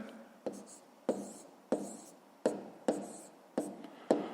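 A pen taps and scratches on paper while numbers are written down during a fifth-grade arithmetic exercise, seven short distinct strokes at a steady rhythm, close and quiet, with no talk.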